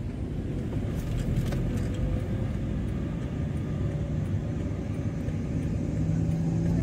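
A manual car cruising in second gear gives a steady low engine drone and road rumble from inside the cabin, even and continuous with no talking.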